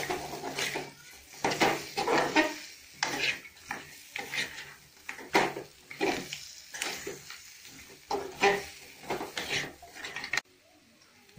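Crab fry with chicken masala powder in a pan, with repeated scraping and stirring of the spoon against metal over a soft sizzle, in uneven bursts, then a brief quiet at the end.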